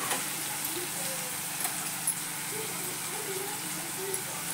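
Homemade onion-garlic masala sizzles in a hot pan with tomato, a steady bright frying hiss with faint stirring clicks, close and moderately loud.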